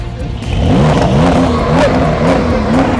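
A supercar engine revs hard at close range, with a loud sustained roar and rising, wavering pitch as the throttle is blipped repeatedly.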